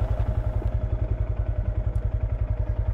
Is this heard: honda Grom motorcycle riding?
yes